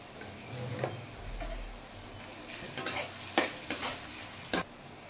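Onions softening in a pan with a pinch of salt give a faint, quiet sizzle, broken by a few sharp clicks and scrapes of a utensil stirring them.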